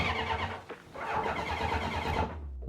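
A 1983 Honda CB1100F motorcycle, in need of work with a sticking starter button, is cranked in a start attempt: a close, uneven mechanical churning that pauses briefly, resumes, then cuts off abruptly without settling into a running idle.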